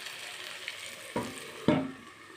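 Small fish cook over a low gas flame with a soft, steady sizzle, broken by two sharper clattering knocks from the pan.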